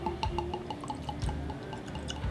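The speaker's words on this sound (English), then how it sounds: "Now we're gonna do a little pour." E H Taylor Single Barrel bourbon trickles from the bottle into a glass, a close, steady pour with repeated dripping splashes and a few low thumps.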